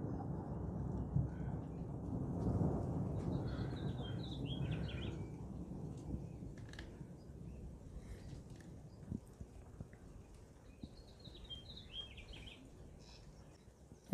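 Low, fading rumble of distant thunder in a storm on a tornado-warning day, with scattered bird chirps and a few soft footstep-like clicks over quiet outdoor ambience.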